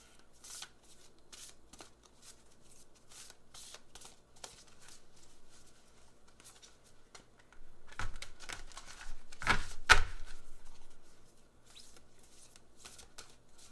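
Soft papery riffling and tapping of tarot cards being shuffled, quiet and close, with a louder burst of rapid shuffling partway through.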